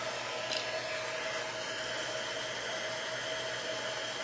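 A hair dryer blows in a steady, even whoosh, drying a wet pumpkin scarecrow shelf-sitter craft, with a faint hum beneath and no talking.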